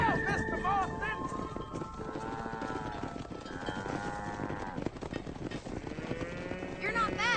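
A cattle herd moos repeatedly in Red Dead Redemption, several overlapping calls rising and falling over trampling hooves, with game voices talking over the herd.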